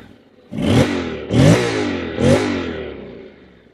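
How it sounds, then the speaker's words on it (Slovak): Honda X-ADV 2021 scooter engine revved three times in quick succession through its upward-pointing exhaust, each loud blip rising and falling back toward a rumbling idle, with no talk. "tak v Honde sa podarilo naozaj pekný zvuk z tohto dohora nasmerovaného výfuku"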